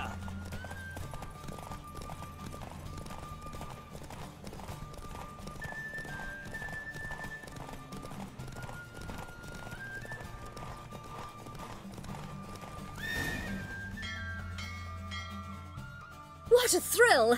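Horses racing in The Witcher 3 video game, rapid galloping hooves drum steadily beneath music and game voices, with a neigh or whinny rising near the end.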